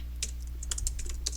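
Quick bursts of keystrokes on a computer keyboard, close and clear, tapping in an uneven rhythm with short pauses between clusters and no voice over them.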